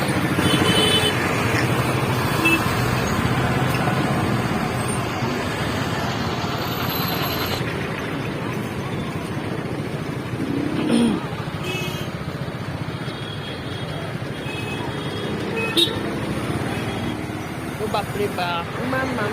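Busy street traffic at a Durga Puja festival in Dergaon, with cars and motorbikes rumbling past close by and occasional horn toots; a steady dense roar throughout, with people talking over it.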